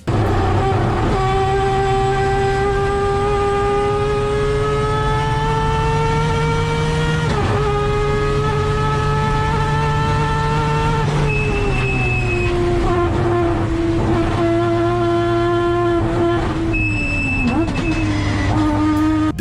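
A three-rotor rotary engine drones loud and continuous for nearly twenty seconds, holding a steady buzzing pitch that dips and climbs slightly, with brief changes as gears shift.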